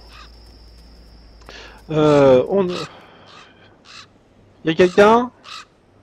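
A crow in the video game Trapped Dead gives two bursts of loud, harsh caws, a pair near the start and a quicker cluster later, in a quiet scene, with someone speaking briefly between them.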